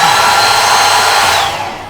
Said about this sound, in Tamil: எப்படி ஹேர் ட்ரையர்லாம் இருக்குது.